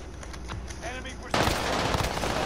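Video game gunfire punches through a wall in rapid automatic bursts, starting sparse and then turning into a loud sustained volley while a player speaks nearby.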